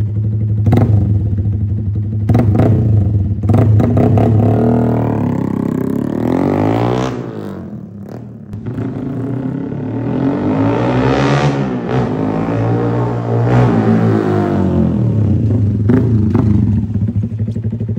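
A Yamaha Sniper race motorcycle with an open pipe revs hard on a test drive, its loud engine climbing and falling in pitch through repeated throttle blips and sweeping accelerations, close and alone.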